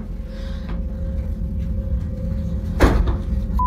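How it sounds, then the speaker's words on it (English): A door is shut with a single sharp thud near the end, close by, over a steady low indoor hum with no talking. "I've just shut door."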